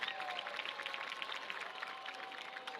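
Faint, distant applause and scattered clapping rise from a football stadium crowd as cheerleading seniors are honored, a thin steady patter under a sustained tone.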